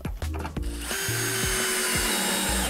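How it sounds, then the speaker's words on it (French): A small screw being driven with a power drill to fix a solar panel bracket, heard as a loud, steady mechanical whir with repeated ratcheting clicks running the whole time, no talking. "Avec la petite vis qui sert à fixer les panneaux, on vient la visser ici."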